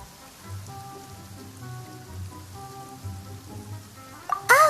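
Steady, faint rain patters down outdoors during a meal, a soft continuous hiss with quiet background tones, before a voice cuts in loudly at the very end.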